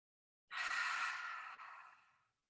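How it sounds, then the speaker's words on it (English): A single long exhale through open lips during a yoga breathing exercise, a soft airy breath that swells quickly and fades out over about two seconds, close and alone. "open the lips to exhale"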